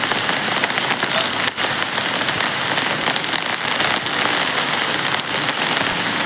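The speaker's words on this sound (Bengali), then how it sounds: "Enjoying a rainy day." Heavy rain pouring down on a rainy day, a dense, loud and unbroken hiss of drops striking surfaces close by, with no voices over it.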